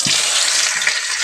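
Onion and a little garlic hit smoking-hot mustard oil with cumin, giving a loud, steady broadband sizzle with a brief thump as they land, continuous and close with no talking.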